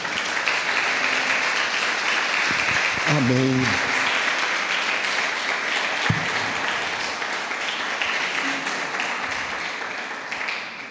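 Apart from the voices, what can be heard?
church congregation applauding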